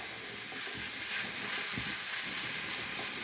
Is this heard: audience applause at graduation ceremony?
no